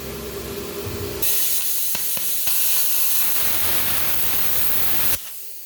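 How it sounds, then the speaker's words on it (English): A cheap little welder with a plasma cutter tries to cut a thicker piece of aluminum at a raised setting of 30, giving off a loud, steady, close hiss for several seconds before it stops abruptly. "Now we're going with a thicker piece of aluminum, see if it'll cut it."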